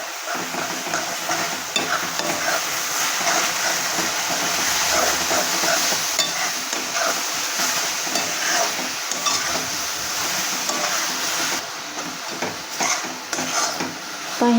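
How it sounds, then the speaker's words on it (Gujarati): Caramel being stirred in a pan with ground green coconut for ladoo gives a steady, close scraping and sizzling texture that runs without a break and has no talk. "બેથી પાંચ મિનિટ માટે જ આપણે કેરેમલને હલાવતા રહેવાનું છે"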